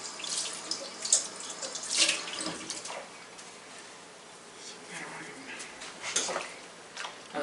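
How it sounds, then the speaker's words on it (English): Hot water streams from a kitchen tap while dishes are rinsed at the sink, a steady broadband splash with brief louder surges as items pass under the flow, fairly close, with no talk. "I'm using hot water to rinse off my stuff."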